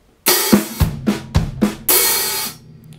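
A short drum kit groove alternates sharp hi-hat hits with deep bass drum thumps in a quick rhythmic pattern, ending on a longer open hi-hat wash, played alone and close.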